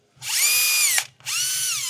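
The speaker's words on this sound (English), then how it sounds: "if you're not careful with your cable as you're drilling, it'll all twist" Cable-driven drill boring into a Nissan DPF, a loud close high-pitched whine that runs steadily, cuts out briefly and then starts again.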